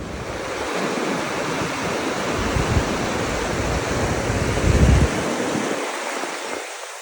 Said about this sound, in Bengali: সমুদ্রের গর্জন শুনছি আর এখানে সানসেট দেখছিলাম